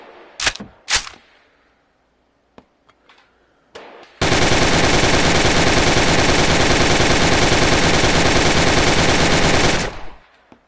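An STG 44 assault rifle in a video game fires one long continuous burst of rapid, loud automatic shots after a few short clicks and bangs.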